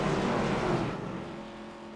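A field of race cars in the iRacing simulator roars along the track under pace-car conditions, a dense, loud engine drone that peaks and then slowly fades as cars pass by.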